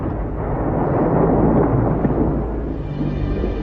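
A volcanic eruption gives off a dense, continuous low roar and rumble, loud and steady throughout with no voices.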